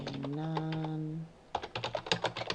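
Typing on a computer keyboard, a quick run of close, crisp key clicks in the second half, after a sustained tonal sound at the start.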